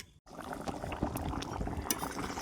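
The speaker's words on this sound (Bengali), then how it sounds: "খুব ভালোভাবেই ফুটে উঠেছে সুন্দর দেখো টক বকিয়ে ফুটছে" Egg and potato curry bubbling in a pot on a stove turned up high, a soft steady simmer with faint pops and small bursts, quiet and close.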